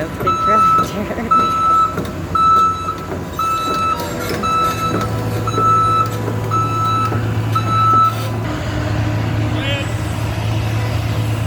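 Repeated reversing beeps sound in a steady rhythm from heavy tractors and trucks doing road work, with engine rumble and idling underneath and people talking nearby.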